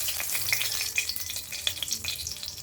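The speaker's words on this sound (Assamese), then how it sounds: "মাছ ফ্ৰাই কৰা তেলখিনিতে মই ভাজিম।" Dried red chillies crackle and sizzle in leftover oil from frying fish, a steady close-up hiss with sharp little pops, with no voices.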